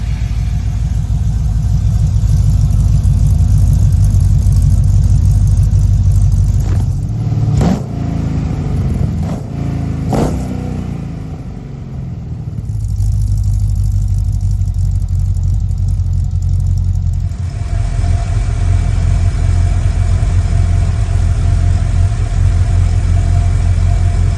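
A GM LS engine started with only two wires idles steadily with a loud, close, continuous rumble, with a few brief revs and shifts in tone partway through and no talking.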